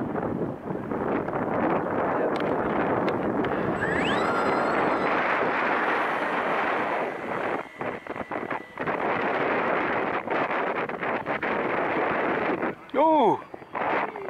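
Strong wind buffets the microphone at an outdoor RC model air show, a loud continuous roar with gusts, while people talk nearby and a model plane's engine whines briefly near the end.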